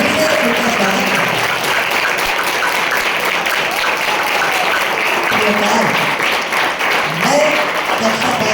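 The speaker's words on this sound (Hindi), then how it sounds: "तालियों की करकर ध्वनि से उनका स्वागत है।" Audience applause fills a school auditorium at a student assembly, dense steady clapping from many hands running throughout, loud and sustained with faint voices underneath.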